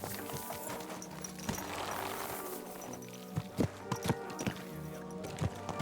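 Horse hooves clip-clopping in the video game Kingdom Come Deliverance 2, a quiet walking rhythm of distinct thuds that grows into sharper clustered hoofbeats toward the end, with soft ambient background.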